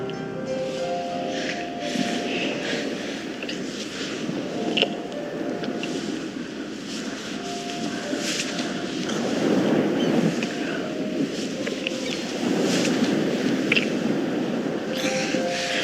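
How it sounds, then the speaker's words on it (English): Ocean waves in a pop music video's sound design: a steady broadband surf wash runs under sustained musical tones and swells louder in the second half. "Obviously the waves and the seagulls are great"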